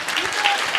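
An audience at a motivational talk claps steadily in a brief, moderately loud burst of dense applause.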